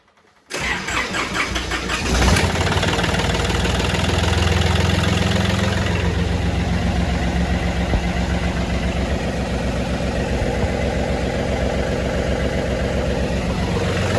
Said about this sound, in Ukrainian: трактор завівся